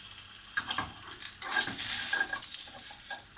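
Scallops sear in a hot pan, seasoned with salt and pepper, giving a continuous close sizzle that swells midway, with occasional scrapes of a utensil against the pan.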